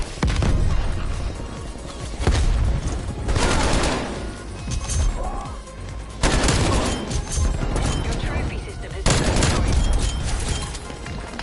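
Rocket launcher blasts and gunfire in a first-person shooter video game, heavy bursts of booming explosions and rapid shots arriving in several loud waves with no talking.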